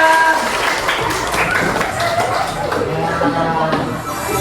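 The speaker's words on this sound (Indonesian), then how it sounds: "tepuk tangan semuanya" Elementary-school students clapping together in a classroom, a dense, continuous patter of many small hands with children's chatter and a teacher's voice mixed in.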